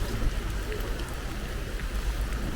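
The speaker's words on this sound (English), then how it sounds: "of all the places to have this rainstorm just out of nowhere pop up right" Sudden rainstorm in Estonia, a dense, steady rush of rain and a low rumbling wash, loud and close throughout, with no clear talk.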